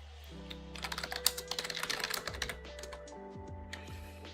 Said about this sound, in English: I actually suck at typing today